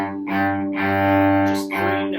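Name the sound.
cello playing three-note rhythm, Suzuki Allegretto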